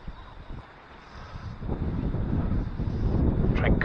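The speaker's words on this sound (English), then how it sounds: "Wind is really coming." Strong gusts of wind buffeting the microphone outdoors while fly fishing for rainbow trout, a rough rumbling roar that builds louder toward the end with no speech.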